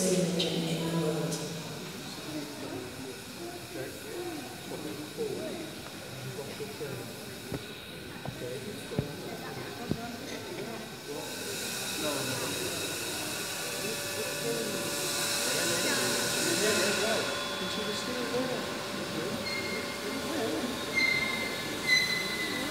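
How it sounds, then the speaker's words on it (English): The most powerful working steam engine in the world, a rolling mill engine at a Sheffield industrial museum, runs with a steady mechanical rumble and hiss that swells midway, with faint clanks throughout. "Now prepare to experience the most powerful working steam engine in the world."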